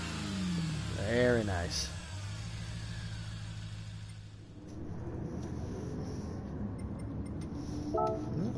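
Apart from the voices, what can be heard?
supercharger whine from a car on a track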